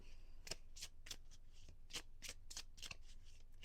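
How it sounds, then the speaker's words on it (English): Tarot cards being shuffled by hand in a quiet room, a steady run of riffling and slapping bursts roughly every third of a second, close and moderately soft, with no talking. "Shuffling these cards for a minute."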